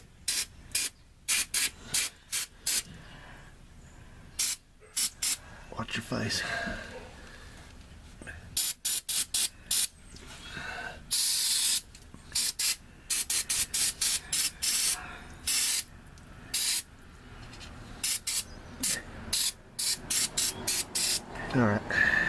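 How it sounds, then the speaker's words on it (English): Repeated short bursts of aerosol spray hiss in quick pulses on parts of a 1973 Plymouth Valiant, with people talking between and over the spraying. "Wait a minute, I'm going to spray that some more."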